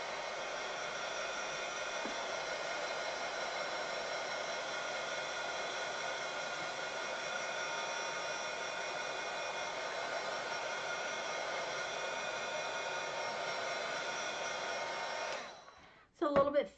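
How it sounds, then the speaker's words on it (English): A heat tool blows steadily for about fifteen seconds, drying thick Simon Hurley solar paste on a Valentine journal card, a loud even whoosh that cuts off near the end followed by a brief clatter. "I'm going to go ahead and get my heating tool and see if we can dry this."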